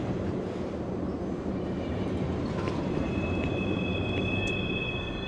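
Train rolling along in the video game Doom 3, a steady, dense rumbling drone with faint high whines and squeals layered on top, continuous and close.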